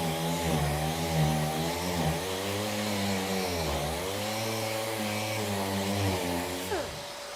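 A Milwaukee M18 FUEL cordless 6-gallon wet dry vacuum runs on its low setting, picking up residual sanding dust with a steady, close motor hum whose pitch dips and rises as it sweeps, then it trails off at the end.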